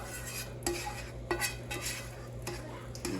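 A utensil stirs sauce into tortellini in a pan, giving a few distinct scraping strokes against the metal at an even pace. The sounds are quiet and close, with no talking.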